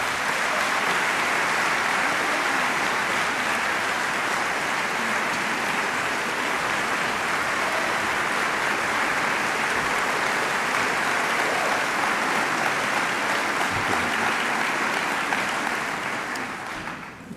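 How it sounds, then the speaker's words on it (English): A large audience claps at the 2013 Opening Day for Joplin Schools, held at College Heights Christian Church: dense, loud, continuous applause that holds steady for about sixteen seconds before fading out at the end. "You can clap all you want"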